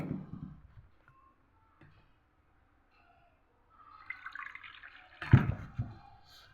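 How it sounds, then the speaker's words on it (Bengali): Water poured little by little into a flour dough mix with black cumin for nimki, faint drips and a short splashy pour near the end amid quiet pauses. "এই ময়দার মিশ্রণের মধ্যে আমি অল্প অল্প করে পানি মিশাবো।"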